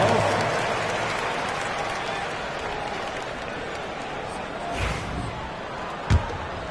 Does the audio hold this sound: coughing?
no